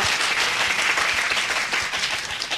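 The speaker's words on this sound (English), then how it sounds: "A round of applause for you guys for putting this event together." Applause for the organisers of an event, a dense, even wash of many hands clapping at close range with no voices standing out.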